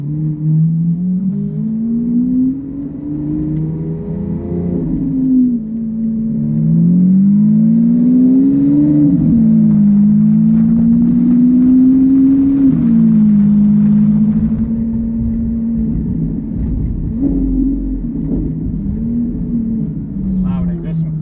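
A Lamborghini engine revs and pulls away, a loud, close, continuous rumble that rises and falls in pitch as it accelerates, with voices talking over it.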